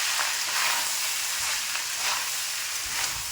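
Cumin seeds, curry leaves and bay leaf sizzling in hot oil for jeera rice, a steady close crackling hiss that swells now and then as the pan is stirred, with no voices.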